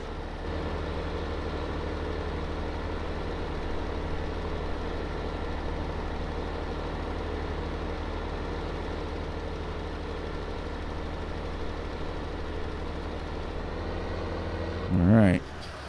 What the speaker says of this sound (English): I'm used to hanging my head out the window of the tractor.